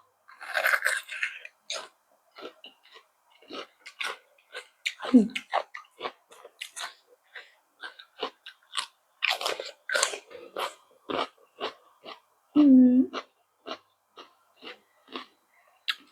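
Someone bites and chews crunchy sweet yellow pepper up close, with a long run of sharp, irregular crunches and wet chewing, broken now and then by breaths and short throaty sounds.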